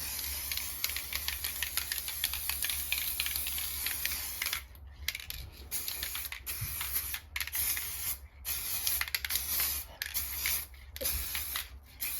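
An aerosol can sprays a quick coat of sealer onto plastic hubcaps in short close bursts, hissing on and off with brief clicks and gaps between passes.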